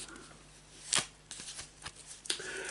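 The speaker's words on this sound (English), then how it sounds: "And we cut the deck there for you, JT, Jean" A deck of cards being shuffled and cut by hand during a tarot-style reading, with a sharp riffle burst followed by softer slides and taps, close and fairly quiet.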